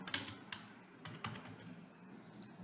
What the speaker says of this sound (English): you have to type here ESP32